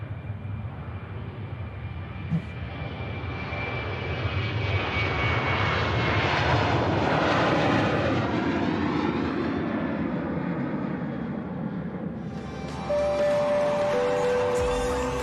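A passenger aircraft on a Geneva flight at Manchester Airport roars past, its engine noise swelling from distant to loud and sustained, then easing as it moves away.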